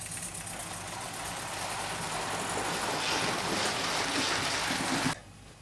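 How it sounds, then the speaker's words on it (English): A small Hornby radio-controlled model live steam locomotive hisses and chuffs steadily as it starts off, a continuous rushing sound building in intensity before cutting off abruptly near the end. "Now watch as we start the engine to move off in the foreground."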